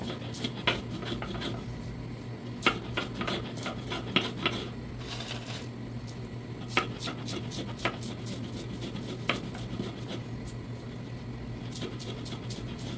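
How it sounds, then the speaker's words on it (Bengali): Dried fish (shutki) is ground on a grinding stone, giving repeated scraping, gritty strokes with intermittent knocks at an irregular pace, fairly close but modest in level. "দুইটা তিনটা শুটকিটা বাটা দিতে হবে, তাহলে গিয়ে মসৃণ হবে।"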